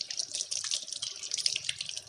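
Water runs steadily from a tap during washing, a faint continuous hiss with small splashes and no voices.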